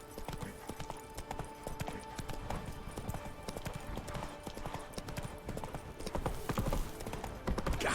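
Horse hooves clip-clopping at a gallop in The Witcher 3, a steady rapid rhythm of close, loud hoofbeats over ambient game sound, with a faint neigh near the end.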